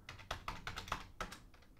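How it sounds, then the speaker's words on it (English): A password being typed on a computer keyboard during a Raspberry Pi setup, about a dozen quick, close, quiet key clicks in an uneven rhythm. "Retype the password."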